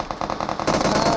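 Rapid automatic gunfire from a battle royale video game, a fast repeating stream of loud close shots that grows denser and heavier partway through the brief moment.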